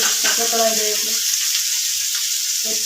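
Ground spice powder tempering in hot oil for a Gujarati sambharo gives off a steady, bright sizzling hiss, with a voice briefly speaking over it near the start and again at the end.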